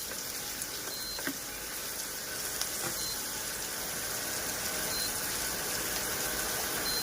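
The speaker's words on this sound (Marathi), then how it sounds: "त्यासोबत तेलात बटाटा पण टाकूया. तर हे आपण छानपैकी परतवून घेऊया." Potatoes sizzling in hot oil while being sautéed for kande pohe, a steady, even crackle holding throughout with a few faint clicks, close and without talk.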